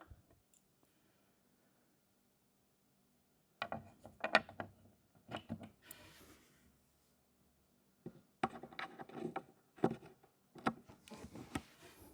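Turn button screws being twisted into a wooden hidden litter box furniture panel: bursts of small clicks, scrapes and ratcheting rubs, close and fairly quiet, separated by stretches of near silence, with no talking.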